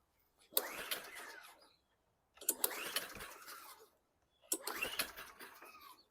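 A small 159cc lawn mower engine with an automatic choke gets three quick recoil pulls, each a whirring rasp of cord and compression lasting about a second, separated by short pauses, close by and without catching.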